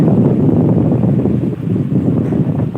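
A fishing boat turns on open water, heard as a steady low rumble mixed with wind buffeting and the wash of water, loud and close throughout with no voices.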